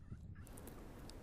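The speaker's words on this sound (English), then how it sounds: "They've lost sight of the gobbler, but can still hear him." A wild turkey gobbler gobbles in a Nebraska canyon during a hunt, one faint distant rattling call early on, with light outdoor ambience around it.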